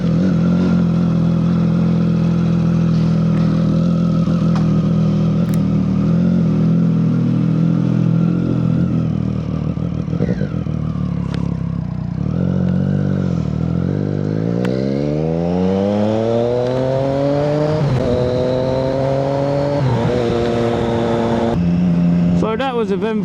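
Motorcycle engine running inside an MOT test bay, idling steadily then revving up with rising pitch several times, loud and close, with occasional clatter and voices in the background.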